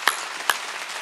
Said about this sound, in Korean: 박수 치려면 세게 좀 쳐야지